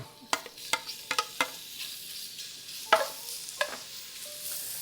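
Shrimp dropped into hot oil for a coconut curry, a run of sharp clicks and spatters in quick succession before settling into a quieter, even sizzle.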